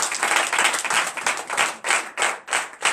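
Congregation clapping in a church during a night deliverance service, loud rhythmic hand claps in a steady beat close by, with a few faint cheers mixed in.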